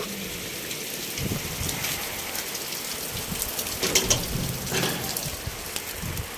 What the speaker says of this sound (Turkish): Çok yağmur yağıyor. Çok.